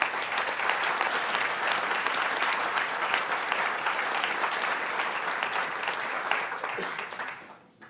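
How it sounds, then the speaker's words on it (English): An audience at a spring symposium on election disinformation applauds, a dense, even clapping that holds steady for about seven seconds before tapering off, with no speech over it. "I hope we'll give them all a big round of applause"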